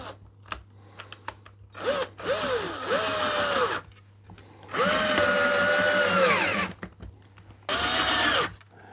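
A power drill drives screws into pallet wood while building a table, in three loud, sustained whirring bursts with brief pauses between them and a rising whine at each start.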